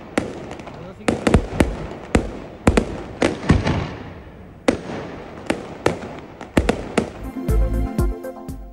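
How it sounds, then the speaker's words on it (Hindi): Fireworks explode overhead during heavy snowfall in Murree, with a dozen or so sharp, loud cracks and thumps spaced irregularly. A dense crackling burst comes at the end. "शदीद बर्फबारी में आतिशबाजी का शानदार मुजाहिरा"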